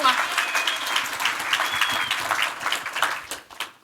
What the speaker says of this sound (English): Everybody give a round of applause. For Zoe.